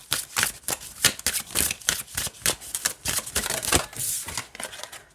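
Oracle cards from a new Wild Woman Oracle deck riffle and slide against each other in quick, crisp bursts, a near, papery shuffling rhythm with no talking.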